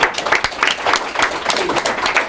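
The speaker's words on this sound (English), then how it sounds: "Give yourselves a round of applause." Audience at a panel event on 9/11 legal actions claps after the talk, a dense burst of applause with rippling peaks throughout.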